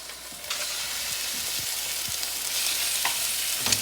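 Chicken frying in a pan gives off a steady broad sizzle close by, with a few small crackles and stirring scrapes over it and no talking.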